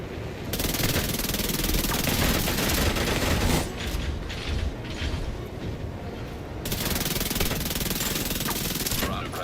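Sustained machine-gun fire in a video game, long loud bursts of rapid shots with a short lull in the middle before the firing picks up again, steady and close throughout with no speech on top.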